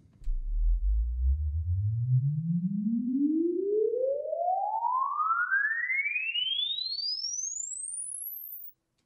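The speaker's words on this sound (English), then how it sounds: "If we simply took a stereo sweep and sent it out to both channels of the reverb" A steady pure tone sweeps smoothly upward from a low hum to a piercing high whistle over about nine seconds, loud and alone, then stops abruptly.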